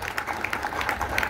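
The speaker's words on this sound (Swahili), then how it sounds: "mpigieni makofi" A crowd applauds at an outdoor political rally in Naivasha, Kenya: dense, steady clapping from many hands that stays even and fairly loud for about a second.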